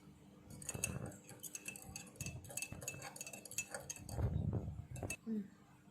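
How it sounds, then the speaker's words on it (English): A spoon stirs tea powder into water in a cup, giving repeated clinks and scrapes against the container in an uneven rhythm, fairly close, with light background noise. "I'm stirring it"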